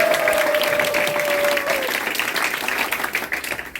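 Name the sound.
audience applause at a party youth committee launch ceremony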